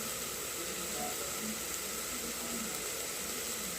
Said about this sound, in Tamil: எண்ணெய் விட்டு தாளித்து இந்த மாதிரி நல்லா வதக்கணும்